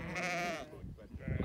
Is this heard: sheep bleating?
yes